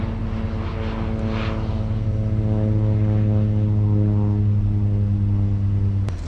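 Propeller crop-dusting airplane spraying fungicide over a soybean field drones steadily at close range, a loud constant engine hum with strong harmonics that holds for the whole stretch.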